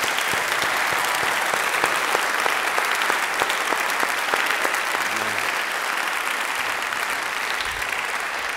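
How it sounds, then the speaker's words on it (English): Sustained applause from a lecture audience, dense steady clapping filling the whole stretch with no voices over it. "I think you deserve a round of applause."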